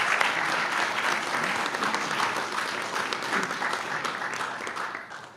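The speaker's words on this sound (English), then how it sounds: "now please give them a warm round of applause" A luncheon audience at a press club event applauds warmly, a dense, sustained burst of clapping from many hands that slowly tapers off, heard alone without speech.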